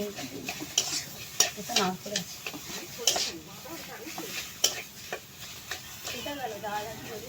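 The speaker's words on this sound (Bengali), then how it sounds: "সমস্ত কিছু খুব ভালোভাবে নেড়ে চেড়ে মিশিয়ে নিচ্ছি" Taro leaf ghonto with grated coconut being stirred in a pan, a vegetarian Bengali dish; repeated scraping and clinking strokes over a soft sizzle, close up, with some speech underneath.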